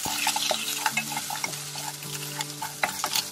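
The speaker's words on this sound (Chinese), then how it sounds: "我们开大火炒" Onions stir-fry in chili oil over high heat, a close, bright sizzle with crackling spatter and the clink and scrape of a spatula against the wok, continuous and without voices.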